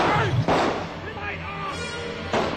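Two sharp gunshot-like cracks, one near the start and another near the end, with a noisy reverberant background in between.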